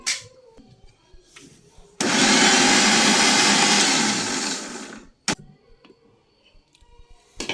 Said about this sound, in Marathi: आता हे सगळ्यांना आपण बारीक करून घेऊया।